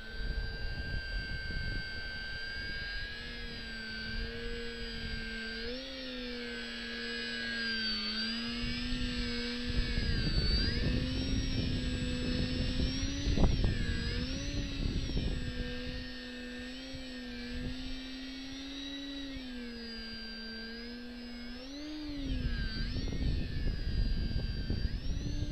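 A Parkzone VisionAire RC model airplane flies low on a windy day, its electric motor whining steadily with pitch rising and falling as it passes near and away, loud throughout.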